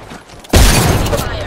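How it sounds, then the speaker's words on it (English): Frag grenade from the Apex Legends battle royale, one loud sudden blast that cuts in sharply and rolls on with a dense, crackling roar, amid game sounds and a voice. "Throwing frag."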